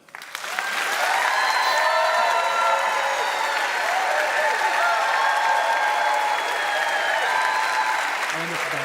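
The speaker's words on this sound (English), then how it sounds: "I appreciate applause for each of them" Sustained audience applause at a televised debate on the Gaza war, a dense wash of clapping from a large crowd that swells quickly and holds steady for several seconds, close and loud.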